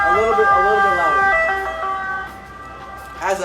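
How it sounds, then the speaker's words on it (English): An ambulance siren wails in a rising and falling pattern as the emergency vehicle passes nearby on the road, loud at first and gradually fading, with a person talking over it. "And now there's an ambulance."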